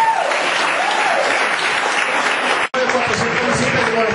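Congregation applauding during a church service, a dense, steady wash of many hands clapping that breaks off abruptly for an instant near the end before resuming with some voices mixed in.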